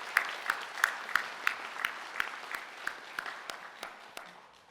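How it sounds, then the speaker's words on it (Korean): A church congregation claps together in a steady rhythmic beat, about three claps a second, with the sound gradually softening and loosening as it goes on. "우리 하나님께 영광의 박수 올려드리겠습니다."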